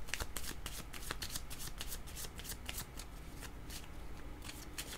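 Tarot cards being shuffled by hand, a rapid run of crisp riffling flicks and slaps that stays close and fairly quiet throughout, with no voices.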